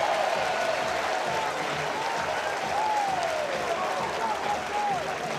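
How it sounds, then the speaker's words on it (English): The Texas A&M baseball crowd gives a standing ovation to departing pitcher Weston Moss on a Sunday afternoon, a dense, sustained roar of clapping and cheering heard from afar under an announcer's commentary. "Now he'll get a standing ovation."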